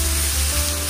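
Ginger paste and tomato hit a hot pan already seasoned with turmeric while cooking a fish curry, a loud, close, continuous sizzle with steady frying crackle and no voices.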